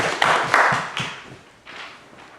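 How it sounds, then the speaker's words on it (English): Audience at a club meeting applauding, a short burst of brisk hand claps that fades out within about two seconds, no talk. "And again, I'd like a round of applause."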